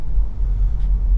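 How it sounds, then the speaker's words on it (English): Low, steady road rumble inside a moving MG4 electric hatchback, a fairly quiet, refined cabin with modest tire noise and little wind noise, continuous and even with no talk. "There's a bit of tire noise, but not all that much."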